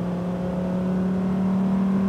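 A Lamborghini Huracán STO accelerates on a track, its engine a steady, strong droning tone that builds slightly in loudness, heard from inside with no talking.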